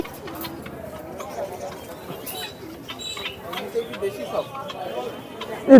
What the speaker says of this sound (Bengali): আরও এমনি আরও বিভিন্ন রকমের অনেক কবুতর আছে